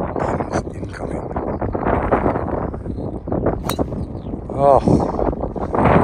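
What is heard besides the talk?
strong wind on a golf course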